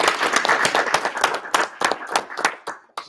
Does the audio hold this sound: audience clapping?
yes